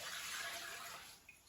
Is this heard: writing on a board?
no